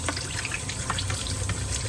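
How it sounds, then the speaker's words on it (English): A kitchen tap runs in a steady, even gush of water while jasmine rice is rinsed, continuous and close with no voices. "Now I'm gonna let the water run just a little bit, just to make sure that we get fresh water without wasting too much."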